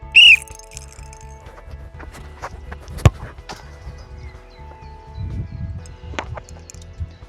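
A single short, sharp referee's whistle blast sounds at the start of a football shot on goal, followed by scattered thuds and clatter over a low rumble.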